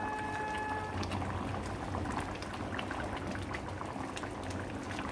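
Peanut paneer gravy boiling under a lid in a pan, a steady dense bubbling and popping that holds evenly throughout, close and fairly loud with no voices.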